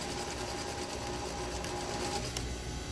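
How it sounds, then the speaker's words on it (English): A sewing machine runs continuously while stitching a quarter-inch seam on a fabric face mask, giving a steady, fast mechanical whir at moderate volume with no talking. "So sewing at 1/4 inch, locking at the beginning"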